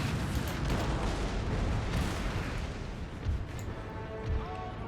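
A dense, continuous rumble of cannon and artillery fire from a battle in Napoleon: Total War with the Darthmod mod, a thick distant barrage with no clear gaps.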